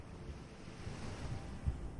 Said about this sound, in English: The sound of waves lulls you to sleep.